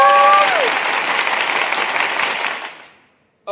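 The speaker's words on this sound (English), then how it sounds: "Donna, hit the applause." Recorded applause sound effect played during a beauty business talk, a burst of crowd clapping and cheering with a short rising whistle at the start, fading out after about three seconds.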